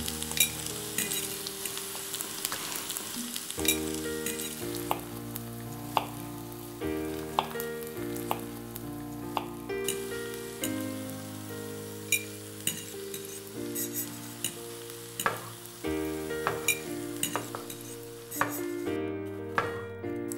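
Radish pancakes fry in a pan with continuous crackling sizzle and some scraping and stirring, layered under steady background music, with no talking.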